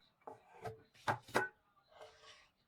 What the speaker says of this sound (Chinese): 像切披萨一样切成8块